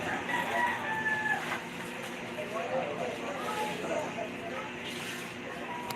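A rooster crows amid clucking chickens, with busy background noise and voices nearby throughout.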